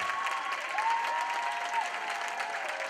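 An audience claps for itself at an awards event: steady, moderately quiet applause from a crowd, continuous throughout with a faint tonal hum beneath.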